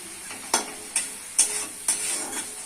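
Masala for a pabda fish curry cooks in a pan while a spatula stirs it, producing a soft sizzle broken by four or five distinct scraping strokes at a steady rhythm.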